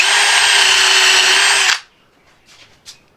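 Power drill driving 1 5/8 inch screws during a sunroom makeover, a loud high-pitched whine held steadily for under two seconds, then cutting off to faint clicks and handling sounds.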